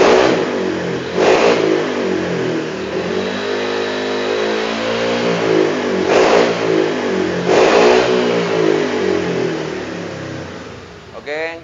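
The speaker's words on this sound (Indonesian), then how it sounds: "Kita akan coba gasnya dulu" Bored-up Honda Vario 180cc scooter engine with a BRT cam, idling steadily and blipped in a few sharp throttle revs, loud and close, with no voices over it.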